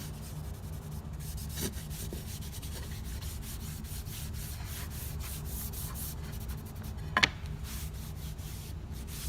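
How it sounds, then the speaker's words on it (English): A cloth rubs Briwax paste wax into a wooden surface, giving a steady, close, soft scuffing hiss with faint rhythmic strokes and one brief knock near the end, with no talking. "We'll rub it in and wipe the excess off."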